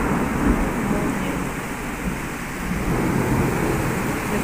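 A heavy downpour pours down in a dense, steady roar with low thunder rumbling underneath, close and loud throughout with no voices.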